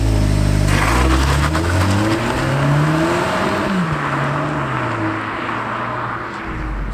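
A VW Polo GTI's 2-litre 207 PS petrol engine revs hard and accelerates from a launch through gear changes, its pitch climbing and dropping, loud and close with no talking.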